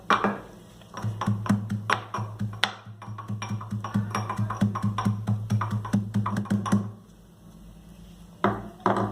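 Onions with salt are pressed and pounded with a wooden piece while making egg paratha: a rapid, rhythmic series of sharp wooden thuds and taps, close and crisp, pausing briefly, then resuming with a few final knocks.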